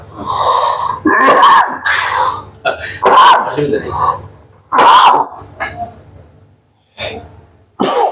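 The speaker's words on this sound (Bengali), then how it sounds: "আমি একটু কাশি দিব" A man coughing hard several times at close range, the loud harsh bursts separated by short breaths and pauses.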